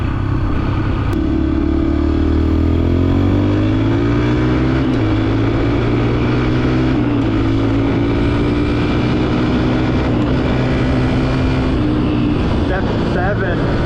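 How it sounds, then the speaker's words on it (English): A 125cc dirt bike in fifth gear revs hard on a wet road, its engine droning loud and close as the pitch climbs steadily, with wind noise throughout. "Step 7, rev out the dirt bike all the way."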